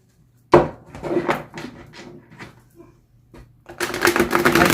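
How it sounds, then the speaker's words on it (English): A tarot deck is riffled and shuffled in quick bursts of crisp flicking, pausing briefly before a final longer, denser riffle; close and fairly loud. "I do a cleansing shuffle in between each reading"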